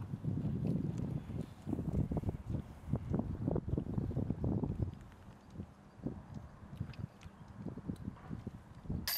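Gusting wind on a disc golf course during a B-tier tournament round, buffeting the microphone with low, uneven rumbling bursts that swell and ease, heaviest in the first half, with no talking.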